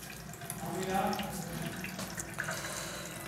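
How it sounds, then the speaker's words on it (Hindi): Water runs steadily into the tank of a Voltas water dispenser fitted with a non-electric float valve, a soft continuous rushing close by with no talk over it. "देखिए, इसमें पानी आना शुरू हो गया है"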